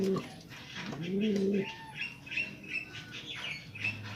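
Soft pigeon coos rise and fall up close, followed by faint chirps and squawks in the background.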